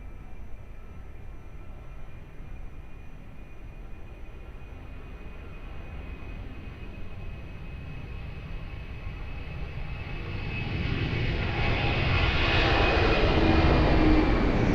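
Airplane taking off from runway 02 at Lisbon Airport, a steady jet engine roar heard from a distance that swells louder toward the end as thrust builds on the takeoff roll.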